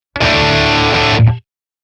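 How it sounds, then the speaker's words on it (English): A Les Paul electric guitar runs through a Tube Screamer overdrive into a Matchless Laurel Canyon tube amp, playing one loud, thick distorted chord that holds for about a second before cutting off abruptly. "for the last tone we try the one with the tube screamer and the Les Paul"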